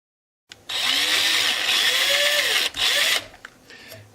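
Power drill boring through the binding of a Sam Bush mandolin held in a vise, just into the ebony beneath; one steady close whirring run of about two and a half seconds, a brief dip, a short final burst, then quiet.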